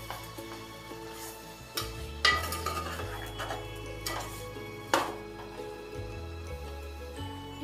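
Mutton is stirred with salt and turmeric in a pot for an Andhra mango mutton curry, with scattered scraping and clanking of a spoon against metal and a few louder knocks over a faint low hum, no voices.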